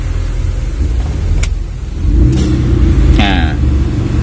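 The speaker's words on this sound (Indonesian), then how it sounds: "idle AC juga jalan, jadi ketika di on-in AC langsung naik, RPM-nya juga naik." A 1995 Daihatsu Feroza SE engine idles with the air conditioning switched on, a steady close rumble that rises slightly as the compressor kicks in, with a brief whine and a voice speaking over it.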